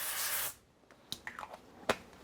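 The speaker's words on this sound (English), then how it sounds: "I'm going to spray the pan here with the avocado oil spray." A hiss of avocado oil cooking spray onto a pan opens the clip, a close, steady half-second burst, followed by a few soft clicks and handling taps in a quiet kitchen.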